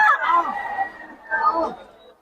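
Chickens at a market in Bocaue give two bursts of harsh, crowing calls, a long one followed by a shorter one after a brief pause, loud and close.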